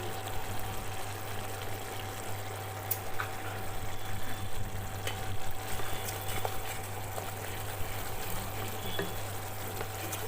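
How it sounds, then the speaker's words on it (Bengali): Boiled chana dal tipped into a hot pan of fried spices and asafoetida, giving a steady, close sizzle and soft frying hiss over a low constant hum, with no talking. "এবারে আমি দিয়ে দিচ্ছি এর মধ্যে সেদ্ধ করে রাখা ছোলার ডাল"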